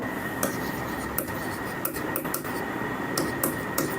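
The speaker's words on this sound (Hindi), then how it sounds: "और अगर मैं ऐसे लिखता हूं" Chalk or marker scratching across a board during an economics lesson, a series of short strokes and taps over a steady background hiss, moderately close and without talk.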